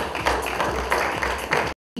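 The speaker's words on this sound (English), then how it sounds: "a huge round of applause for all our 6 panelists here" Applause for a panel of six at a mattress brand launch event, a steady round of clapping from the audience that breaks off abruptly near the end.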